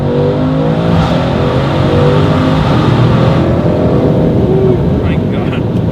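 A 2019 Mercedes-AMG C63 S coupe with its warm 4-litre V8 bi-turbo revs hard from inside the cabin with one window down, a steady, loud, deep engine roar running throughout with rising and falling pitch.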